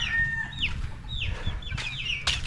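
Several chickens cluck and squawk close by in short, overlapping bursts over a low background rumble.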